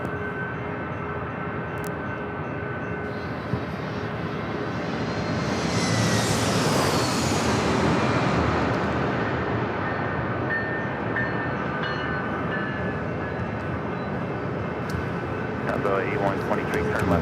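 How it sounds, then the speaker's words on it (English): A Delta Boeing 757 jet taking off at San Diego airport, its engine roar building to a broad peak midway and then fading as it climbs, with a voice speaking over it at times. "Now we got that Delta 757 up next for takeoff."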